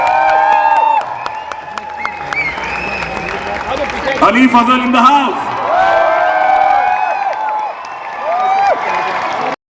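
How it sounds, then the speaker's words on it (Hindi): Audience at the Jashn-e-Rekhta 2024 Urdu festival in Delhi applauds and cheers for actor Ali Fazal, with whoops and shouts rising around a host speaking over the crowd, swelling mid-clip and continuing throughout. "मैं चाहता हूं कि पूरे दिल्ली में ये तालियों की आवाज पहुंचे।"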